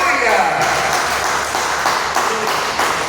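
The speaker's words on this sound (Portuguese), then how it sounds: "Agora eu convido a igreja a dar a mais forte salva de palmas ao Senhor Jesus." Church congregation applauding Jesus: loud, dense clapping from a large crowd, steady and full throughout, with voices mixed in under it.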